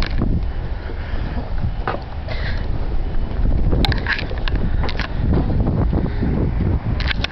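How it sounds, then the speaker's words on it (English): Strong outdoor wind in Winnipeg buffets the microphone in a steady, loud roar with gusty rumbles throughout, alone without any talking. "As you can tell, it's very windy."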